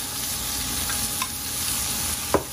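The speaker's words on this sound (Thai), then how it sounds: "ผัดเองพริกแกงจนหอมแล้วใส่หมูบดลงไปเลยครับผม" Ground pork and red curry paste stir-fried in a hot pan for northern Thai khanom jeen nam ngiao, a steady close sizzle with occasional scraping strokes of the spatula.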